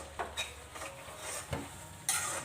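Tomato and chili powder frying in a pan for a gongura and dry prawn curry; a faint, steady sizzle with occasional soft stirring clicks and scrapes, fairly quiet and without talk.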